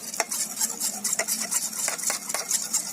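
Quick rhythmic whisking of onion juice and oil in a bowl, close clinking and sloshing strokes repeating steadily, fairly quiet with no talk.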